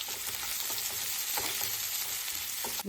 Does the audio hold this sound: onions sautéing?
yes